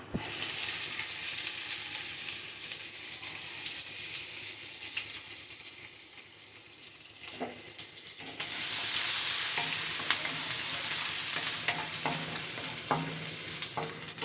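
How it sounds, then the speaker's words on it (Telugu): Grated ginger and garlic fry in a pan for coriander fried rice, a steady close sizzle with occasional stirring scrapes and clicks, swelling louder midway as the pan hisses harder. "ఇది బాగా ఫ్రై చేయాలి."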